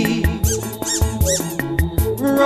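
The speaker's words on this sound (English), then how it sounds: "I love that squeaky sound." A dog's squeaky toy squeaks over and over in a quick, steady rhythm: loud, close, high-pitched squeals that repeat roughly every quarter second.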